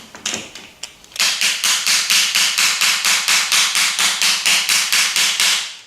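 A part of a Martini-Henry Mk IV rifle is tapped to tighten it down. A few irregular knocks give way to a fast, even train of about twenty sharp, close taps in steady rhythm.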